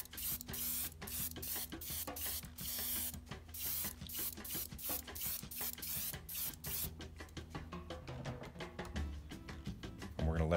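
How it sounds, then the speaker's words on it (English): Repeated short bursts of aerosol spray hiss as flat clear coat is sprayed from a distance onto a scale model, each a quick puff with brief pauses between, fairly close and steady throughout. "So I'm spraying our flat on from a distance"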